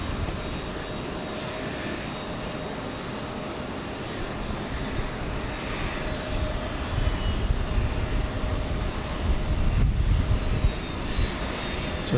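A United Express plane taxiing at Houston Intercontinental makes a steady, moderately distant jet engine whine and rumble that grows louder toward the end.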